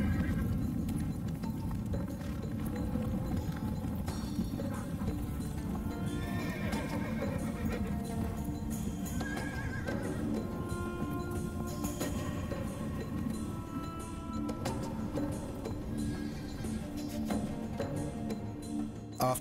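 Several horses at an ancient horse breeding station whinny and snort over a steady patter of hooves on ground, close and continuous throughout with no talk.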